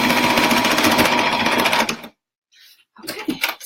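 A sewing machine back stitching fabric for a slouchy toy sack, a loud steady whir of rapid stitches for about two seconds, then a brief pause, a small clink and renewed handling noise.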